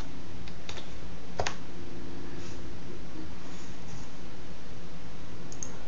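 Someone types a username on a computer keyboard: quick, light key clicks in a short irregular burst, close up, over a steady background hiss.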